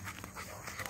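A nine-month-old Dutch Shepherd dog panting, quick soft rhythmic breaths close by and fairly quiet, with no talk.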